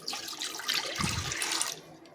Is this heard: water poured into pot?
yes